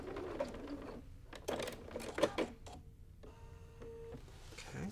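A home sewing machine with a walking foot quilting a straight line along masking tape, running at a steady moderate pace in short mechanical bursts with brief pauses, close and fairly quiet.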